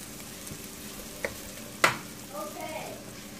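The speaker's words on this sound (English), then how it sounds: "add in some grated garlic and grated ginger and fry them all for like 30 seconds" Grated garlic and grated ginger fry in hot oil for a beef stir-fry, a soft steady sizzle broken by a couple of sharp utensil clicks against the pan. No voices.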